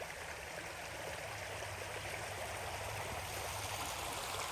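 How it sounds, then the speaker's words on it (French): A flowing stream of water, a steady rushing and babbling hiss that stays even throughout, fairly close but soft, with no voices over it. "le bruit de l'eau, c'est pas du bruit"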